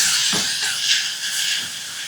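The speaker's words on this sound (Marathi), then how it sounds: "आता हा बारीक चिरलेला कांदा गरम गरम तेलामध्ये मिसळून घ्यायचा" Finely chopped onion hits hot oil, giving a bright, continuous hiss that stays loud and even for about two seconds with no talking.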